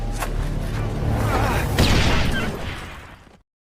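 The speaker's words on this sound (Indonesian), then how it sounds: "terkena ledakan dinamit yang dipasang pada anjingnya" A deep rumbling blast with crackling debris rolls on for a few seconds, loud and booming, then cuts off into silence.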